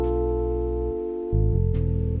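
Electric piano playing a main melody harmonized with a second line below it, held tonal chords that drop briefly then return with a louder, pulsing bass note, alone without voices.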